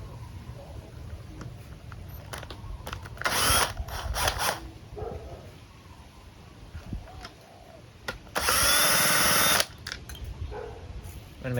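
A power tool backs out carburetor bolts on a Husqvarna 128LD string trimmer, two short whirring bursts followed by a longer loud one, with a voice talking in between.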